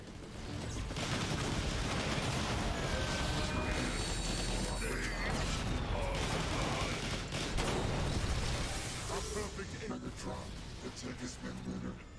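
Nucleon cannon shots in the video game War for Cybertron: a dense, continuous stretch of heavy weapon fire and mechanical clatter, loud and close throughout.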